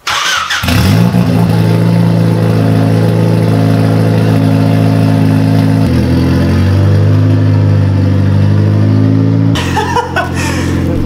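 Turbocharged Honda Civic EG with a broken muffler, its engine starting and then idling with a loud, raspy exhaust drone, the pitch shifting once before a brief voice near the end.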